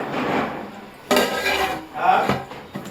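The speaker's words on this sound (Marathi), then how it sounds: "परत झाकण ठेवलं." A lid set back onto a pot of mutton biryani cooking over a medium gas flame, a sudden metallic clatter followed by a second knock and a scrape.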